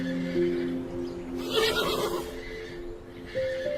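A horse neighs in one loud, wavering whinny that rises and then falls over a few seconds, heard on its own with no voices.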